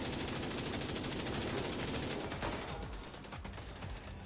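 Rapid automatic gunfire in The Division 2, a dense burst of close shots for about two seconds that thins into scattered rounds and mechanical clatter.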